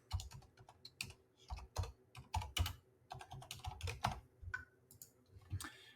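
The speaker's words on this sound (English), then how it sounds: "If it's not in there, just type it in." Close, quiet typing on a computer keyboard, irregular bursts of key clicks with short pauses between them, alone without talk.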